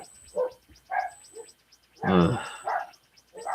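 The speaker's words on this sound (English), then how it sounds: "somebody just came home, so my dogs are barking" Several sharp dog barks in quick bursts, fairly close, with a loud cluster of barking in the middle and a brief human grunt.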